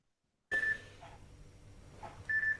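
An alarm clock going off in a dark bedroom, with two short, clear electronic beeps separated by a quiet gap and faint rustling between them.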